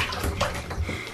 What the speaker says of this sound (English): You're splashing water everywhere.